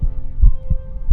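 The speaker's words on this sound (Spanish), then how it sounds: "el latido subía de punto cada instante hasta que creí que el corazón iba a estallar" Heartbeat sound effect for a horror story narration: three heavy, deep thumps spaced irregularly over a low droning hum, close and loud, with no voices.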